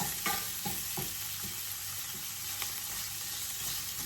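Chicken tinola aromatics sizzling in a little hot oil in a pan, a steady broadband frying hiss throughout with a few soft stirring knocks, no speech.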